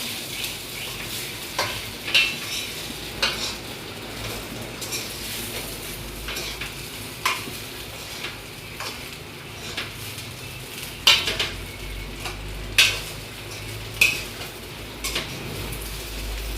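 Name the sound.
stirring spices into oil in a pan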